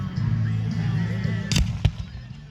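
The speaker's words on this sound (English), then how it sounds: "Fireworks." Fireworks at a firework show go off in two sharp bursts close together, set against steady low background noise.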